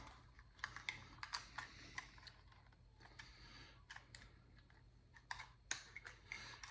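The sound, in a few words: unfolding the arms of a TizzyToy BL01 drone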